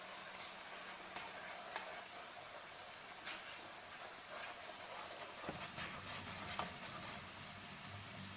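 Spices for chickpea curry (chana masala) are stirred in a hot pan, giving a steady low sizzle with soft scraping and clinks throughout, fairly quiet and close, without speech.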